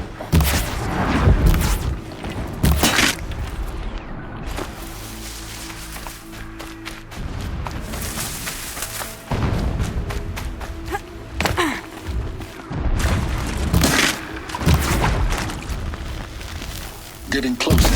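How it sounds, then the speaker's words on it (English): Distant explosions boom in the Horizon Zero Dawn video game, heavy thuds and rumbling blasts recurring through the scene. They mix with footsteps and ambient game sound. "Explosions in the distance."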